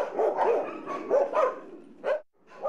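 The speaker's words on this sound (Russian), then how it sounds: "Сейчас подопечных у Николая Костюка только собаки" Dogs bark repeatedly at a veterinarian's animal shelter, with several close, loud woofs in an uneven rhythm and a sharper yip near the end.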